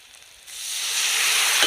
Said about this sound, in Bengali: এবার আমি কড়াই একটু জল দেব সামান্য।